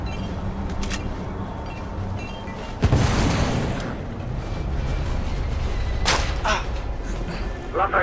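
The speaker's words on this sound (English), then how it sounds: "The damage from the explosion is getting worse." A burning ship in the video game The Order: 1886 rocked by explosions, with a sharp heavy blast and crackling booms punctuating a rumbling background while characters speak over it.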